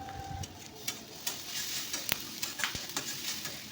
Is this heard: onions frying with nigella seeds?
yes